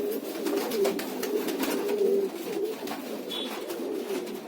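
Giribaz pigeons coo steadily in low, throaty rolls, several birds overlapping close by with a faint rustle behind.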